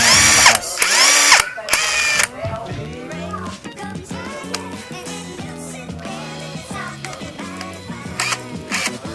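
An OKS impact wrench running in loud bursts at the start, then a steadier mechanical whirring and ratcheting that continues at lower level.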